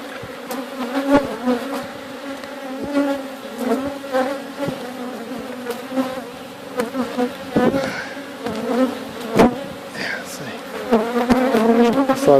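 Honey bees buzz around an open backyard hive during an inspection, a dense hum with individual bees droning close by and scattered clicks and knocks from handling the frames.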